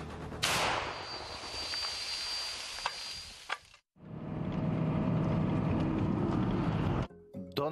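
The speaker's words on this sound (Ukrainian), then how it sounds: "Постріл!" A loud, sharp gunshot cracks out on a front line in Ukraine's Donetsk region, followed by a long noisy rumble that drops off briefly, then another sustained roar of noise.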